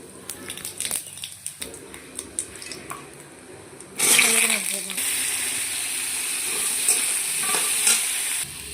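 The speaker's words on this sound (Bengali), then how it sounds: "আলুটা হালকা ভাজা হয়েছে" Potatoes fry with cumin seed tempering in a pan, starting with sparse taps and scrapes before a louder burst of sizzling sets in and continues steadily with occasional stirring clatter.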